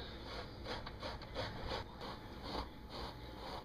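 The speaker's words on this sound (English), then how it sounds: "you're just simply going to take and grate all of these potatoes" Raw potatoes are rubbed hard against a box grater in quick repeated strokes, a close rasping scrape with a steady back-and-forth rhythm.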